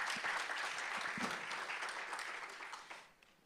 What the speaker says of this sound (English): Let's give another round of applause for Dr. Singleton.